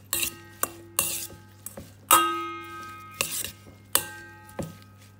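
Guacamole being mixed in a bowl with lime juice, a utensil clattering and scraping against the dish in a series of sharp, close strikes with short gaps, no talking.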